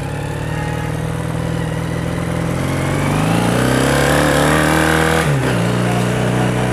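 A 1984 Honda CB400 cafe racer motorcycle runs steadily while riding, its engine note climbing and shifting through gear changes, loud and continuous with no talk.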